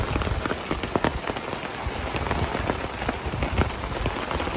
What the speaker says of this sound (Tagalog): Pero paglabas ko, umuulan pa rin.